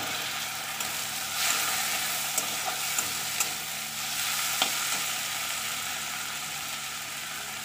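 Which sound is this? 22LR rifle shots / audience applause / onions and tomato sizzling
onions and tomato sizzling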